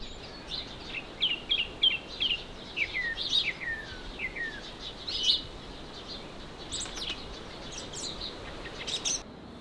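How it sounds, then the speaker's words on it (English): Birds sing at a forested mountain summit on the Kaimai track, giving bright, descending chirps and twittering phrases over a steady hiss of wind and insects, fairly near and unaccompanied by voices. "it doesn't have any views, it's just the tranquility of the bird song"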